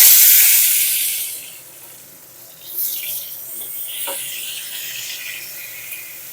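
Pointed gourd (patol) hits hot mustard oil in a kadai on a gas stove, giving a loud hissing sizzle that eases after a second or two, then settles into a steady, softer crackle.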